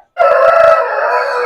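A heavy-sized, double-bodied rooster for sale crows once, loud and close: a single sustained, harmonic call that starts abruptly after a short silence and holds to the end.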